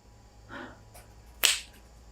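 A single sharp hand clap cracks out loud after a brief pause, following a faint softer sound, in a quiet room with no talking.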